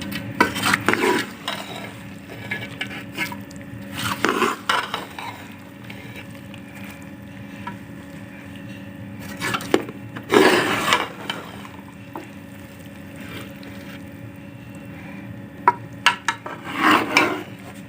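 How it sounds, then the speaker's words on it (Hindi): Spoon stirring and mixing potato, carrot, peas and fenugreek in a pan for a winter sabzi, irregular metallic scrapes and clanks against the pan recurring over a steady low hum; no speech. "इसको अच्छी तरह मिक्स करेंगे।"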